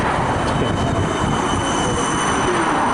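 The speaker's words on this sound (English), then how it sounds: "this will be the final tram in the video, this D class" Melbourne D class tram passing close by at a tram stop, a steady broadband rumble of wheels and motor with faint high whine, continuous and loud throughout with no talk.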